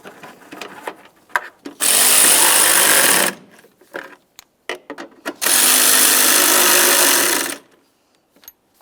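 A power tool drives in the mounting bolts of a windshield washer reservoir against the fender of a 2003-2011 Mercury Grand Marquis, with two loud, close bursts of whirring separated by clanks and handling noises.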